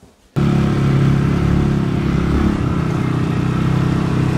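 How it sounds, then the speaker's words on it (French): A tractor-mounted shredder starts up abruptly and keeps running as a loud, steady mechanical roar with a heavy low rumble and engine drone, close by and continuous with no talking. "ça c'est la broyeuse donc qui est fixée, qui est fixée sur le tracteur que je soulève"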